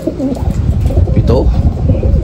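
Racing pigeons returning to their loft in Pagbilao, Quezon, with soft cooing calls under steady background noise and nearby talk.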